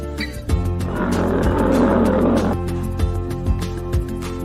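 A lion gives a deep, loud roar lasting about two seconds, close and powerful, followed by a few short grunting breaths.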